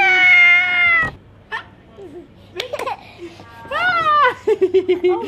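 A cat meows several times, rising and falling harmonic cries with short gaps, fairly close, with some faint background noise between calls.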